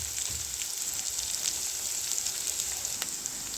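Onions frying in a pan, a soft steady sizzle and crackle running throughout, fairly faint and close, with no talking.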